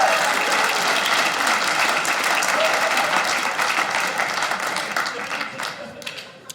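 Comedy club audience clapping during a stand-up set, a dense, steady round of applause that thins and tapers off toward the end.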